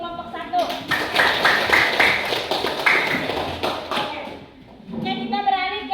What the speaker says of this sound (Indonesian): Sekali lagi kita tepuk tangan untuk kelompok 1.